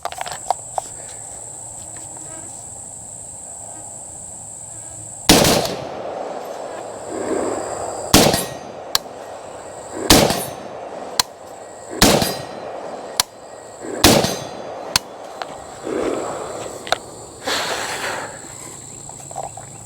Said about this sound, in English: I'm gonna squat down and shoot it at that 8-inch target for the last several rounds.